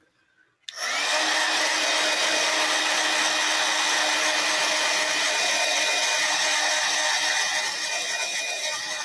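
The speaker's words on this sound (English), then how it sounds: "Let me take my Screamin' Heat tool to it." Screamin' Heat embossing heat tool switches on abruptly and blows a loud, steady whooshing roar for several seconds to dry ink on a card, with no talk over it.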